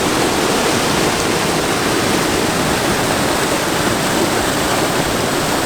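Loud, steady rush of a stream flowing at the Devil's Bathtub, Devil's Fork, Virginia, a constant broadband wash without pauses or voices.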